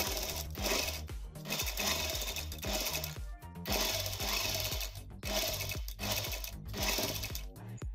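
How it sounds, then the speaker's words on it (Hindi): A sewing machine runs steadily while stitching a homemade fabric face mask, its fast mechanical whir continuous and fairly close, with short dips in speed. "इसे भी हम यहाँ पे सिलाई से इसको बंद कर देते हैं।"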